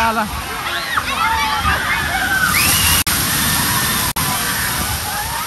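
At Krushnai water park in Pune, water rushes and splashes loudly and continuously up close, while people shout and talk excitedly over it.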